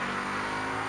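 A Bajaj Pulsar NS200 200cc motorcycle engine revs steadily at high revs, loud and close, with a dense rumbling drone and no pauses.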